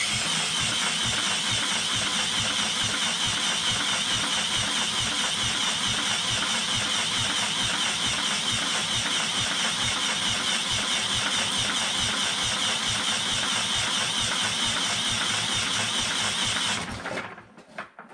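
A salvaged small engine, choked with a hand over the intake, runs in a loud steady rapid chugging rhythm close by, then cuts out near the end.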